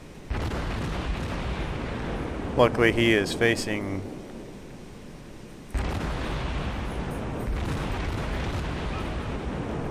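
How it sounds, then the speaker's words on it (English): The cruiser St Louis fires high-explosive shells in a naval video game, making deep booming salvos that roll under an ongoing voice of commentary. "I've just got the fire button down so I can put some high explosive shells"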